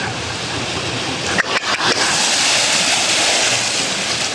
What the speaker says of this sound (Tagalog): Walang katapos ang baha.